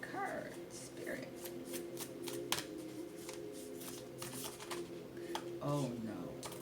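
Tarot cards shuffle in soft, repeated riffles and flicks close by, while someone speaks over and between the shuffles.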